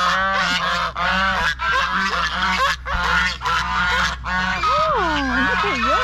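A goose honks loudly and close by at a cafe, giving repeated harsh, wavering calls with almost no pause. Low background hum runs underneath, and the honks become more drawn-out and swooping toward the end.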